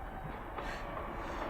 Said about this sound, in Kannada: ಬರ್ತಾ ಇದೆ ಟ್ರೈನು.